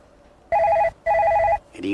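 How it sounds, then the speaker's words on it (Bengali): Two loud bursts of an indoor telephone bell ringing in quick succession, close by, followed by a brief voice at the end. "রিং হচ্ছে, রিং হচ্ছে"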